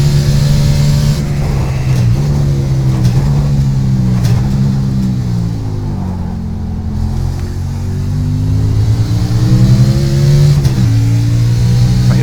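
Race car engine in iRacing, a loud sustained mid-pitched drone that rises and falls as the car shifts, brakes and accelerates through corners, continuous and close.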